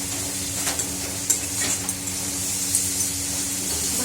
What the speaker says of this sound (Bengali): ভাজা ভাজা বেশ মশলা হয়ে গেছে